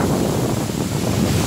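The waterfall at Saut du Laïre pours over a muddy river, a loud steady roar of rushing water with buffeting wind noise on the microphone.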